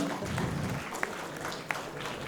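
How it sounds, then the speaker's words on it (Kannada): Applause at an HR awards ceremony greeting an award recipient, a steady spatter of clapping from a crowd at moderate distance with a couple of sharper claps standing out. "ಬರಲಿ ಜೋರಾದ ಚಪ್ಪಾಳೆ"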